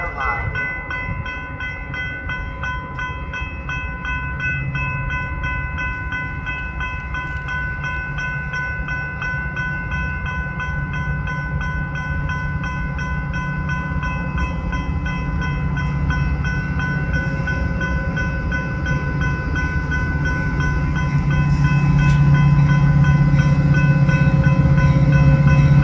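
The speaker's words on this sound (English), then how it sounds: "number 641 to Harvard is now arriving" A Metra commuter train pulls into Barrington station with a sustained rumble and steady tonal whine that grow louder toward the end as it draws near.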